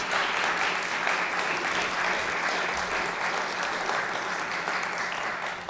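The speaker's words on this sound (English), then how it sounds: "Applause, come on, yes." A crowd claps steadily in sustained applause, dense and even throughout without pause.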